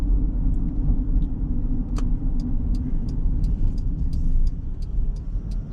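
A lifted Toyota Granvia Q 3.4 V6 4WD minivan cruises along, heard from inside as a smooth, steady low road rumble with faint intermittent ticking, no talking.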